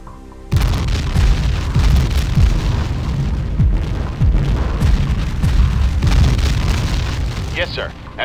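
An artillery barrage in the video game Ground Control 2, with repeated deep booming explosions rumbling loud and continuous over several seconds, plus a short burst of voice near the end.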